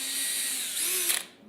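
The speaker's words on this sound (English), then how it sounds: "so I just drilled 3 holes in there for the hinge" A power drill whines at high speed while boring holes in wood for a hinge, a close, sustained motor tone that rises briefly before cutting off abruptly.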